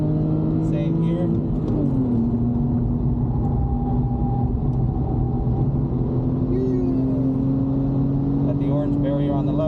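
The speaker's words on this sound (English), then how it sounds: "turn in, accelerate through the corner" A BMW E90 accelerates hard through a corner on a race track, its engine a loud, steady in-cabin drone whose pitch climbs gradually, with tyre and road rumble underneath.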